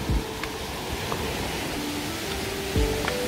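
Cold mountain water of Heebang valley below Heebang waterfall on Sobaeksan rushes in a steady, broad hiss, with a few faint knocks on top.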